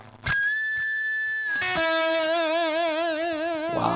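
A single note on an ENYA smart guitar's bridge humbucker pickup, clean-ish with effects, struck and sustained, then a second chord rings with wide wavering vibrato, close and steady.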